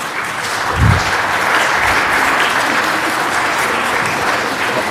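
Applause in a council chamber during a budget and finance meeting fills the room as a dense, steady wash of clapping from many people, loud and continuous throughout.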